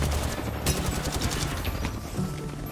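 Gunfire in Apex Legends ranked play: a steady, dense burst of rapid shots with a sharp crack partway through, loud and continuous with no talk over it.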